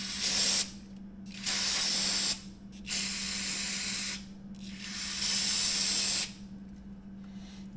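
Cleaner spray hits a used motorcycle drain bolt from a 2023 Yamaha MT-10 in four loud, hissing bursts of about a second each, separated by short pauses, close up over a steady low hum.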